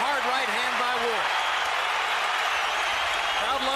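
Arena crowd at the Andre Ward versus Sergey Kovalev boxing match applauds and roars in a continuous loud wash, with a commentator's voice running over it.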